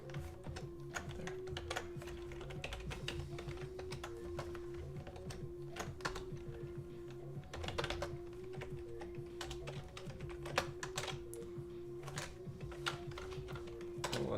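Steady typing on a Swedish computer keyboard, rapid irregular key clicks with occasional heavier keystrokes, close and alone over a constant low electrical hum.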